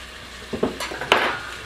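Food for spaghetti cooks in a pan while a utensil stirs it: soft sizzling underneath, with a few clinks and scrapes of the spoon against the pan, close and moderately quiet.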